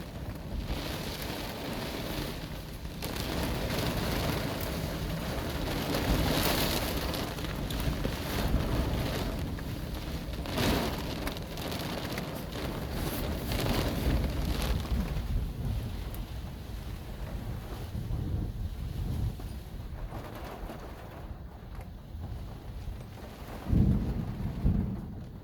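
Heavy rain drums on the outside of a van during a thunderstorm. The roar of rain and wind is steady throughout, with rumbles of thunder and no talking.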